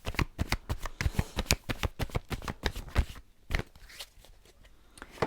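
Tarot cards are shuffled close up in a rapid run of crisp riffling slaps, then a few quieter, scattered card sounds, with no talking.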